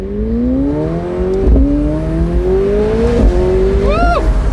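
A car in sport mode accelerates hard, its engine pitch climbing steadily and dropping sharply at each quick, aggressive upshift, three shifts in succession, loud and close from inside the cabin.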